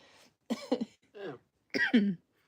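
A few short, harsh coughs in quick bursts, close and moderately loud, separated by brief pauses.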